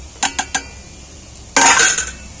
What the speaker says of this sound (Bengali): আমি একটা মিক্সারের জারে এগুলো ঢেলে নিচ্ছি।